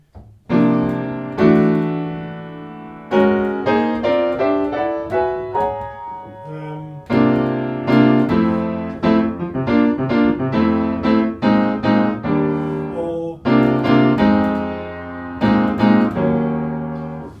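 An acoustic guitar strums sus4 chords in short bursts, letting some ring out and shifting between shapes, close and clear with pauses between phrases.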